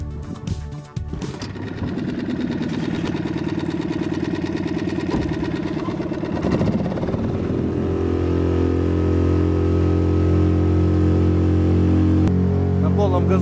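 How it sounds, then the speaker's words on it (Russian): Suzuki 6 hp four-stroke outboard motor on a Kazanka boat, starting up with mechanical clatter and then settling into a loud, steady drone near the listener as it runs, with no talk. "Сейчас запускаем мотор."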